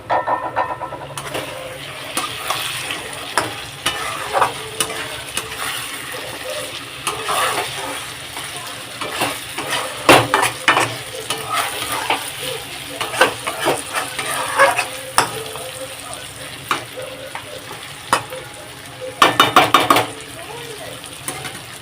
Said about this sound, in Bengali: তো মাংস আমার এখানে কষা হচ্ছে, জাস্ট নাড়লাম।